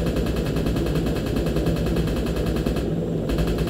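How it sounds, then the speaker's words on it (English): An aircraft cannon fires at enemies in a close air support video game, a dense rapid stream of shots rattling continuously over a steady engine drone, loud and close. "I'm going to switch to cannons"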